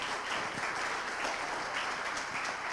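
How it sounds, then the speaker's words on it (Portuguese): A congregation applauds during a Sunday celebration worship service in church, producing a steady, dense patter of many hands clapping at once that holds evenly throughout without pause. "Pode aplaudir Jesus pela vida das minhas bolinhas aqui."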